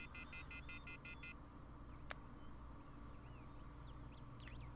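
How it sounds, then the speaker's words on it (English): Cell phone keypad dialing in the Everlasting Summer video game: a quick, evenly spaced run of about six short beeping tones, then a quiet hiss broken by one sharp click and faint chirping. "I took out my cell phone and dialed the first number from my contact list"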